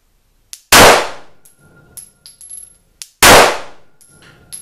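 A Glock 17C pistol firing Remington ammunition at a range: two loud, sharp shots about two and a half seconds apart, each ringing out briefly, with faint clinks and clicks in between.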